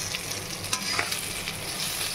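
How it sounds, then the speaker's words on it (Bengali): Pieces of bata fish fry in hot oil in a pan, a steady soft sizzle with occasional brief crackles and pops, close and unbroken, with no voices. "বাটা মাছ ভাজছি"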